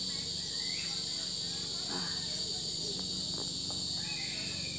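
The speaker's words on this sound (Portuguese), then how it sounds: "Olha o barulho das cigarras lá no fundo." Cicadas drone outdoors in steady, high, continuous buzzing bands under the shade of a large tree, with faint scattered sounds and occasional soft bird-like notes beneath.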